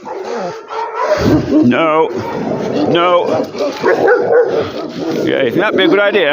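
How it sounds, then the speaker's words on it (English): A dog barks and yips in excited, repeated bursts with some whimpering, close and loud, mixed with a person talking throughout. "Oh, we have to bark at every dog"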